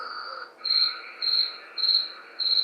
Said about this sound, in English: This, it's the creaking sound of cricket.